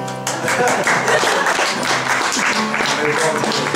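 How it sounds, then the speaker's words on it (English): An audience at a library cultural performance applauds dancers, steady clapping mixed with talk and background sounds for a few seconds, fairly close and moderately loud. "Round of applause for Paul and Desi, please."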